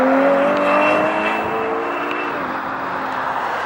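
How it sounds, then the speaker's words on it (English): A Ferrari Purosangue test mule with a naturally aspirated V12 drives past loudly and close. The engine note is a high, smooth drone with pitch shifts as it changes gear and slowly fades. "In the video, you can even hear the naturally aspirated V12 that is offered in this car."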